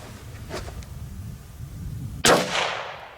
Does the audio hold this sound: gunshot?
yes